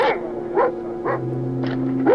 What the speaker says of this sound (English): Oh, those are probably cadaver dogs.